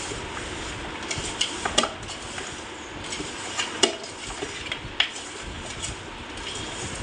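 Chicken pieces being mixed with chili powder and masala for a Telangana-style biryani, with soft rustling and scattered clinks of a spoon against the vessel, close and fairly quiet.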